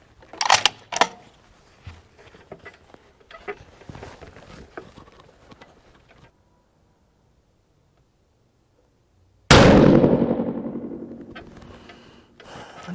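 A firearm fires a factory ammunition load at the range: one sudden loud report that rings out and decays over several seconds. Before it come scattered small handling clicks and knocks, then a stretch of silence.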